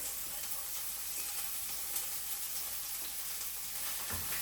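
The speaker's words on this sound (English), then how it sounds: "I'm gonna put in the scallion, the onion, and I add like 2 cloves of garlic" Scallion, onion and garlic sautéing in oil for Jamaican brown stew fish, a soft continuous sizzle with no talking.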